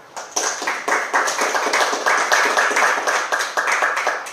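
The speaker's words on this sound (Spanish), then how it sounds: "Y le da un aplauso al Señor." A church congregation applauds during a sermon, a steady run of quick, fairly close handclaps in an uneven rhythm that carries on throughout without any voices.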